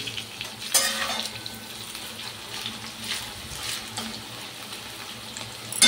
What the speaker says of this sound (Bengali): আর এই দেখো এগুলো ভাজছি